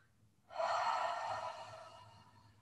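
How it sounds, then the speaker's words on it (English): A single smooth, audible breath taken during partner yoga, a soft airy rush that swells quickly and then fades slowly, close and alone in a quiet room. "smooth inhale, smooth exhale"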